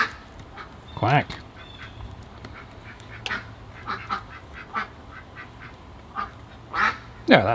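A duck quacks in loud, close bursts near the start and the end, with softer scattered sounds between them over a quiet background.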